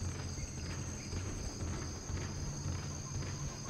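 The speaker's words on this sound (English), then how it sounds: "It's even got crickets." Crickets chirp in a continuous, faint, high-pitched drone within the game Dead Space, spread evenly under low rumbling ambient noise with no clear individual calls.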